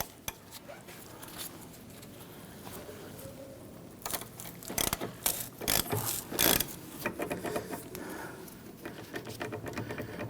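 Ratcheting clicks from a number 7 Allen key backing out a bolt on the parking brake hardware of a 1999-2004 Jeep Grand Cherokee, close and sharp, with a denser burst of rapid ratchet strokes in the middle.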